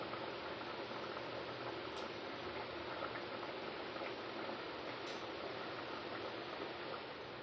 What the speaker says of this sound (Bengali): এবার এটাকে লো ফ্লেমে আরও মিনিট পাঁচেক আমি হতে দেবো লো ফ্লেমে।